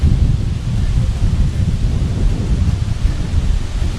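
A thunderstorm at an open wild campsite with strong wind, loud steady roaring gusts and low rumbling blasts, continuous throughout with no clear speech.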